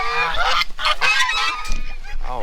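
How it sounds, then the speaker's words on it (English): Rare-breed hookbill ducks give loud, close, repeated honking quacks in a rapid overlapping chorus. "Venus and Moon, the hookbill ducks that are a rare breed, one of the rarest breed"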